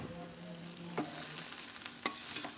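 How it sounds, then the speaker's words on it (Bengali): Chow mein noodles tossed in a pan after a spoonful of sugar goes in, a soft sizzle running throughout with a couple of brief scraping knocks from the utensil, one louder clink near the end, no voices. "তো দেখো চিনি দিয়ে ভালো করে কিন্তু নেড়ে নিচ্ছি আমি"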